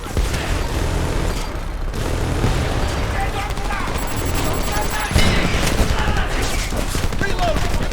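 Sustained gunfire in the video game Homefront, a dense, loud barrage of automatic weapons and explosions throughout, with shouted combat callouts from soldiers mixed into the din.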